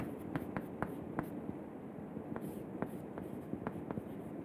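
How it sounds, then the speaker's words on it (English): Writing on a board during an engineering lecture, a run of sharp, irregular taps and scratchy strokes, close and fairly quiet over a steady room hum, with no talking. "So I will write over here"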